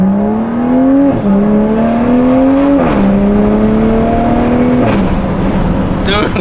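A 2021 Toyota A91 Supra with a new downpipe exhaust drones loudly as it accelerates through several gear shifts, its engine note climbing and dropping, with sharp pops and burbles at each shift.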